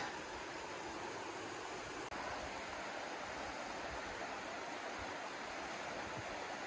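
Steady rushing water of a snow-fed stream in a conservation area in winter flows without a break, a dense, even wash of noise like a nearby stream running fast.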